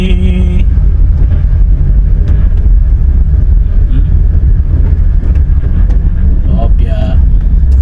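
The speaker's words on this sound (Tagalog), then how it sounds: "Kinding-kinding yung ating sasakyan dahil may mga lubak-lubak din eh." A vehicle rolls over a bumpy, potholed road in the Philippines, with a constant loud low rumble and jolts throughout, and some brief voices and traffic sounds over it.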